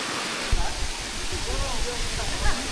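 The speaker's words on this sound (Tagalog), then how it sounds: "Guys, eto na yung Batlag Falls." Batlag Falls in Tanay, Rizal pours down in a steady, close, broadband roar of falling water, with a few faint voices and small knocks rising briefly over the rush.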